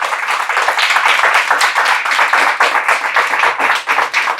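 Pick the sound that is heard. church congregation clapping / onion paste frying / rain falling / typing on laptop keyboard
church congregation clapping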